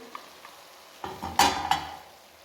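Aloo gobi of potatoes and cauliflower stirred in a pan: faint sizzling, then a few sharp spoon scrapes and clinks against the metal around the middle, close and without talk.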